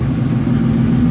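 A Whipple supercharged 2016 Mustang engine holding on a two-step launch limiter, a loud, steady low rumble with no voices over it.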